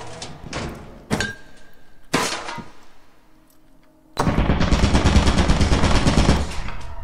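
Gunfire in the video game Lethal Company: a few sharp separate shots, then a loud rapid burst of automatic fire lasting about three seconds, close and punchy, no talking.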